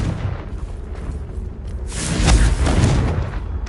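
A Confringo explosion spell cast in the video game Hogwarts Legacy, heard as a deep booming blast whose low rumble swells and lingers through the middle of the moment, with no voices over it.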